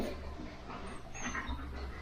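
An intact male dog whimpers and pants nearby, soft high whines over a steady low background hum, with no clear talk.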